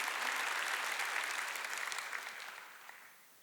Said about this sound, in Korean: 박수 치며 하나 할게요